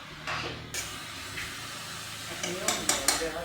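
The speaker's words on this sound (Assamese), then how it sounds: "ইয়াতে অলপমান পচলাখিনি ভাজিব লাগিব আৰু ইয়াতে ভাজি আছোঁ" Chopped banana stem frying in oil in a pan, with close scraping and clinks of a spatula stirring against the metal over a low sizzle, a few sharper knocks near the end.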